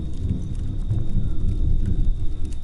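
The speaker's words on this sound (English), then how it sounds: "Damn, that's big thunder" Thunder during a rainstorm, a loud low rolling rumble over steady rain hiss that swells and churns continuously without a break.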